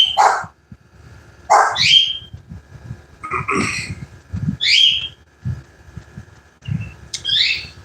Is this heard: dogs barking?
yes